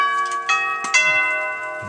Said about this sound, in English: This is Westminster chime.